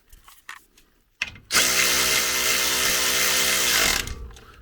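A power tool, probably an impact gun, runs a 13 mm bolt on a 2017-19 Ford Super Duty truck during a leveling kit install: one long, loud, steady whir of about two and a half seconds after a few brief clicks and knocks.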